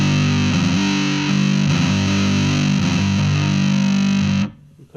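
A bass guitar played through a Boss ODB-3 bass overdrive pedal rings out loud and gritty with distorted sustained notes and a few re-struck notes, then cuts off abruptly near the end.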